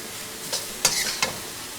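Cauliflower sizzles in a hot pan, with a soft steady hiss and a few louder crackling bursts as it is stirred.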